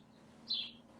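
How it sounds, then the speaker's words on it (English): Small birds chirp briefly outdoors, a single bright call rising over steady low background hum, moderately near and fairly faint. "I hear them birds chirping."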